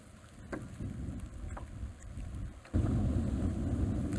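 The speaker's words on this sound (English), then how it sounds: "The wind is crazy." Strong wind buffeting a small boat on a lake, gusty rumbling noise against the microphone with faint knocks, swelling into a heavy, louder roar near the end.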